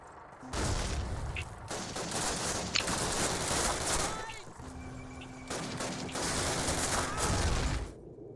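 Covering gunfire in the video game Call of Duty Classic: dense, sustained bursts of rapid shooting that run almost without break, loud and close, with a short lull midway.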